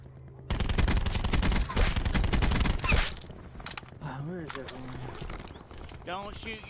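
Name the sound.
gunfire in Call of Duty Blackout video game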